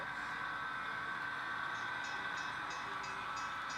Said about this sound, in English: There you can hear my new grade crossing bells.